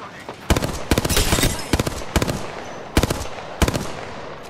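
Automatic weapon fire in the battle-royale shooter Apex Legends, loud bursts of rapid shots repeating in short volleys with brief pauses between them.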